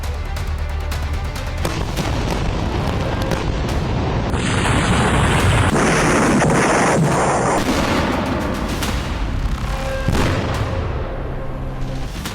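Explosions and gunfire from the Israel-Iran war crackle and boom continuously, dense and loud, with a roaring blast-like swell in the middle and sharp pops throughout.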